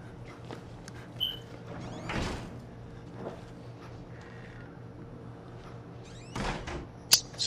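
Door in Outlast opening amid a dim ambient hum, with a couple of creaking, scraping swishes and a sharp clack near the end, moderately close and with no voices.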